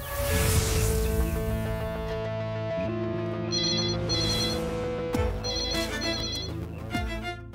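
A telephone ringtone rings with a repeating melodic pattern during an outgoing call, loud and steady, playing alone without talk.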